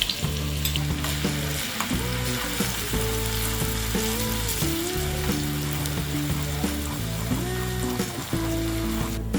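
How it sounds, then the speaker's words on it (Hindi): Crushed garlic frying in a pan of hot oil and ghee for a Punjabi tadka, a loud continuous sizzle and crackle close up, alone apart from a steady low droning hum in the background. "तेल और घी गर्म होने के बाद हम डालेंगे ये 8 से 10 गार्लिक हमने क्रश कर लिया है।"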